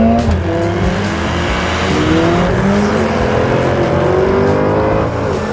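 A Mercedes-AMG A45S and an older C63 AMG V8 accelerate hard from a rolling start in manual, the engines loud and close. Rising revs climb through the gears in a continuous, dense roar with no talk.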